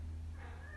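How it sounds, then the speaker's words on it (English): A pet cat purrs faintly and steadily under low room hum, with a soft meow-like tone rising near the end. "Oh, that's my cat. I don't know if you can hear her."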